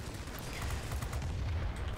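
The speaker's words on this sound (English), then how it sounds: "Oh, when this cannon hits, it sings." An aircraft cannon fires during a flight combat video game, a dense burst of rumbling, booming shots that stays loud and continuous throughout.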